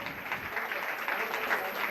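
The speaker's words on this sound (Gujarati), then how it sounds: "એકવાર જોરદાર તાળીઓ થઈ જાય નવા પ્રમુખને" An audience applauds steadily to welcome a newly installed president at a Women's Day gathering, the clapping dense and continuous throughout at moderate loudness.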